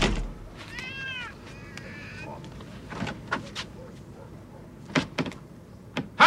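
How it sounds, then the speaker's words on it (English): A cat in a movie scene lets out a couple of close, wavering meows near the start, followed by scattered knocks and thumps against a quiet background. "Who let the cat out?"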